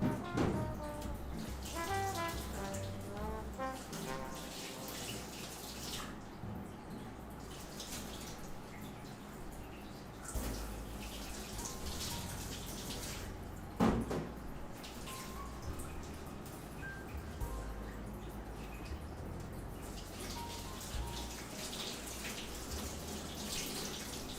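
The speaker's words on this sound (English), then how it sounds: "Let's wash the potatoes real quick as well" Potatoes are washed under a running kitchen tap: a continuous soft splash of flowing water with irregular drips and clatter as they are handled, quiet and close, with no talking.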